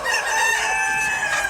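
A rooster crows close by among a flock of backyard laying hens, one drawn-out cock-a-doodle-doo ringing loud over faint clucking, with no voices.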